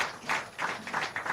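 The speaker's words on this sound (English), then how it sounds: "Make one clap for that woman." A small audience claps for a woman in a broadcast studio, with a few short bursts of scattered hand claps close to the mic and no talk over them.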